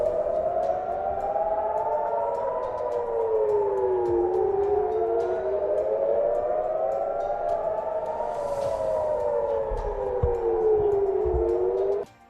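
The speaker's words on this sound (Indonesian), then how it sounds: "Sirine perang seketika meraung-raung yang menjadi tanda jika pertempuran panjang bakal dimulai." A war-time air raid siren wails over Tel Aviv during Iranian missile strikes, its loud tone rising and falling in long, slow sweeps for about twelve seconds before cutting off, with no voices.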